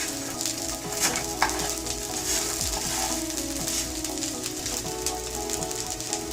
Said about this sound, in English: I'm going to flip it and toast the other side as well.